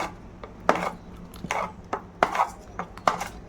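Spiced filling being stirred into khichuri in a pot for a Radha-Madhav offering, heard as a run of sharp scraping and clinking knocks of a spoon against the pot, spaced irregularly with quiet gaps between.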